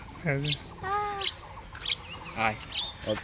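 A pet myna, or shalik, kept in a rural Bangladeshi village, gives a few short squawky, whistled calls with brief pauses between them. The calls are close and moderately loud over a quiet background.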